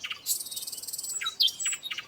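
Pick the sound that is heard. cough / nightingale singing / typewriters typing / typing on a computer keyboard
nightingale singing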